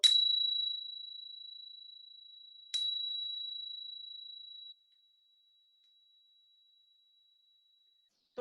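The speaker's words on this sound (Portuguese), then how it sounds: "Toca o sininho que você toca na aula presencial" A small hand bell used in a classroom is struck twice, each time ringing out as a clear, pure, high tone that slowly decays, followed by several seconds of near silence.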